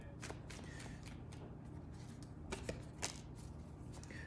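Tarot cards being shuffled by hand, soft papery riffles and flicks in quick bursts with a few sharper slaps, close and quiet against a faint background hum.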